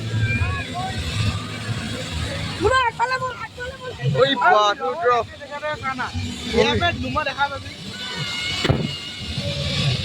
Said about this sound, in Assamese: বাপৰে বা ইমান বতাহ লাগিছে